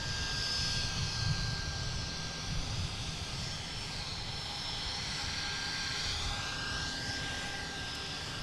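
A Southwest jet coming in to land at Boston Logan gives off a steady, moderately loud engine roar with a thin whine, holding evenly for several seconds with no talk.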